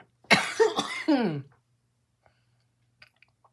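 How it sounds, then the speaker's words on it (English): A short burst of chronic coughing, two or three harsh hacks close to the mic, followed by quiet with faint small clicks. "I also do have a chronic cough, and I do try my best to keep it held back"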